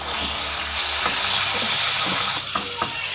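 About half a kilo of thin chicken breast strips sautéing in a pan for Singaporean rice, a steady close sizzle with a few clinks and stirring scrapes toward the end.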